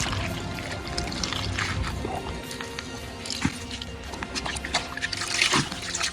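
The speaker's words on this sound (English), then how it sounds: "I'm squeezing out the water and then we drop it in." Water squeezed by hand out of bitterleaf while making onugbu soup, a close, continuous wet trickling and dribbling with small splashes that grow denser toward the end.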